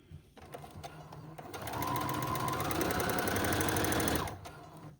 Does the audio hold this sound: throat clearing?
no